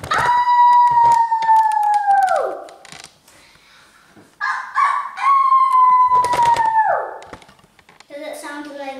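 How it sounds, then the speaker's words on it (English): A dog lets out two long, drawn-out howls that slide downward in pitch, with people talking and reacting in the pauses between. "Look at him howl."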